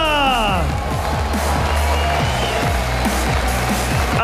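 A large crowd cheers and roars at the IEM Katowice esports event in the Spodek arena, a steady loud wash of voices and whoops filling the hall throughout, with a music bed thumping underneath.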